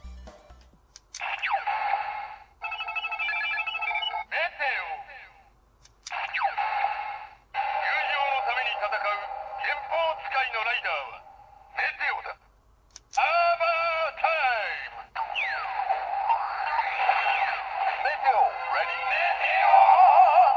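Gashapon Kamen Rider Zi-O Mach ridewatch toy plays its electronic sound effects and voice lines, bursts of tinny, bright audio separated by short silences, small-speaker quality and fairly close.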